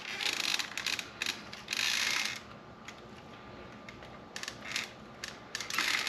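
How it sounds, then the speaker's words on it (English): A throttle connector being plugged into a Big Rock RC car, with a few brief plastic clicks and scraping bursts close by, separated by quiet pauses. "Now we're going to go ahead and plug in our throttle."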